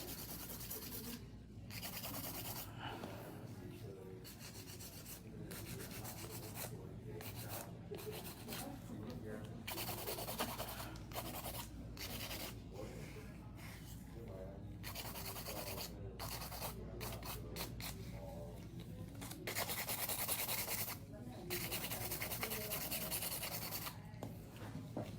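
Hand file rasping across acrylic nails in steady back-and-forth strokes, a continuous close scratchy rub that runs throughout with occasional brief pauses between strokes.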